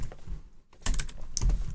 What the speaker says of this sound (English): Really struggling with typing right now, apparently.